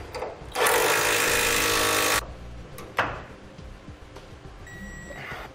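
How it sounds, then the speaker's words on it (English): Power tool tightening and torquing bolts that hold gooseneck hitch plates together under a 2013 truck, a loud whirring burst of about one and a half seconds followed by a sharp clack and quieter handling noise. "Now we'll tighten and torque our 2 bolts here that hold our plates together on the driver's side."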